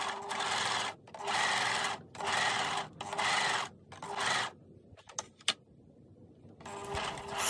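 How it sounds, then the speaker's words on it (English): An overlocker runs with no fabric to chain thread through, several steady whirring bursts of about a second each with brief pauses, close and clear, then stopping with a few clicks before starting again. "Turn the machine on and run the thread through with no fabric in."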